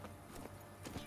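In a Witcher game, hooves of the horse Roach thud quietly in a quick, brief rhythm against steady background ambience.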